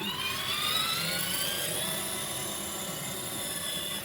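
A kids' Tesla Cybertruck 12V ride-on toy driven by remote control runs with a steady electric motor whine, a high tonal hum over faint mechanical noise that holds throughout.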